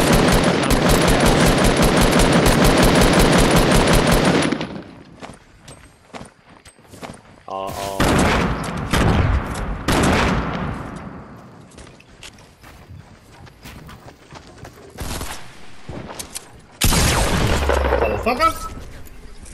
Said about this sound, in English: Someone else is shooting at me